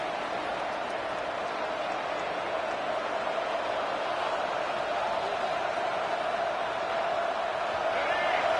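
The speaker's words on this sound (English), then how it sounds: "This crowd bringing the energy and noise early" Steady stadium crowd roar at a football game in a video game, a dense continuous wash of noise holding even and loud throughout.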